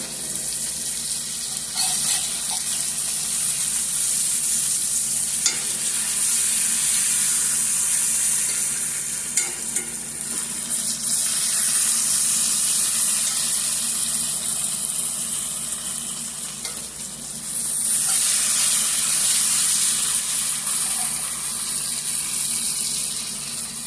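Beef liver fries in a hot pan, a steady, loud, close sizzle and crackle that swells and eases as pieces are checked and flipped, continuing without talk throughout.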